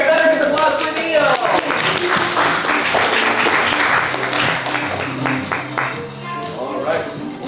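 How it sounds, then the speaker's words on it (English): Audience at an improv comedy show breaks into sustained, dense applause that stays loud and steady throughout, with scattered whoops and voices mixed into the clapping. "some applause for Neil"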